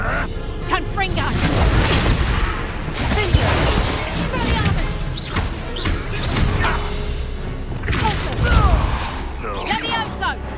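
The Confringo explosion spell going off in the video game Hogwarts Legacy, with loud booms and crashing bursts over dense battle noise, while voices shout throughout.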